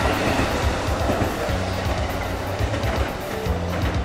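A single-car rural local train running with a continuous rumble and rhythmic clickety-clack of wheels over rail joints, moderately loud and close, with no talking.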